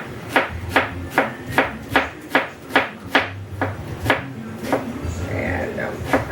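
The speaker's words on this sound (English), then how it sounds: "I can cut my onions." An onion is chopped with a knife on a board in a home kitchen, roughly a dozen evenly spaced sharp chops near the mic, slowing toward the end over a faint background hum.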